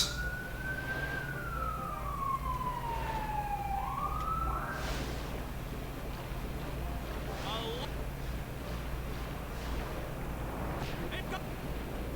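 Emergency vehicle siren wailing in the background, a long sweeping tone that rises and falls over steady low hum and game sounds, with people talking throughout.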